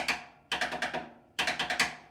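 Drumstick taps in a percussion piece: three bursts of crisp, quick taps, the later two each a run of five rapid strikes, close and clean with no voices.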